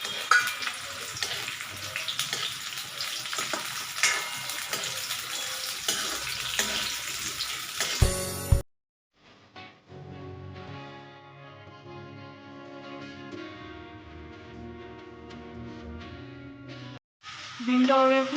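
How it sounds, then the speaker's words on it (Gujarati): Okra fries in hot oil in a Kathiyawadi-style kitchen: a dense, loud sizzling crackle fills the first eight seconds. After a sharp cut, quieter sounds with talking follow. "તો જેવું તેલ ગરમ થઈ જાય તો સૌપ્રથમ આપણે ભીંડાને ફ્રાય કરી લેશું"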